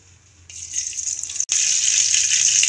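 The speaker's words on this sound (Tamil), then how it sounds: "கடாய் சூடாயிடுச்சு, தேவையான அளவு ஆயில் ஊற்றிக்கலாம்." Cooking oil pours into a heated kadai with a bright rushing hiss that swells in after a quiet start, breaks off for an instant, then continues loud and steady.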